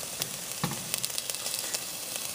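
Chopped onion frying in olive oil in a pan, a steady close hiss with scattered sharper crackles and a few soft stirring knocks, no voices.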